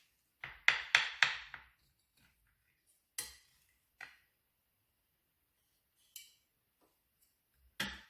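A knife cuts a slice from a moist one-egg apple cake on a plate, making a quick cluster of sharp clinks and taps followed by a few sparse, isolated knocks amid quiet.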